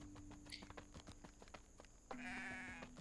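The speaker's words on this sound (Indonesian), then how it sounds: "Nampak tak? Nampak tak kambing ni?" A goat bleats in the train-building game Trackline Express, one faint, drawn-out bleat over a steady ambient background with soft rhythmic clopping.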